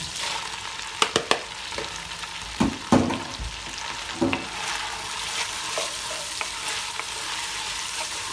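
Onions and leek fry in a pot of lamb and vegetable soup base, a steady close sizzle with a few sharp knocks and scrapes of stirring near the start, settling into continuous crackling.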